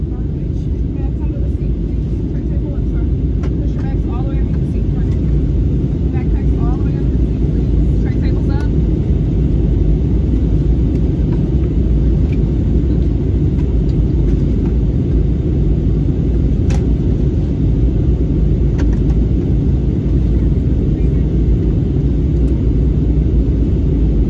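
Steady low rumble of a passenger airplane cabin in flight on approach before landing, a loud constant roar filling the whole stretch with faint scattered clicks on top.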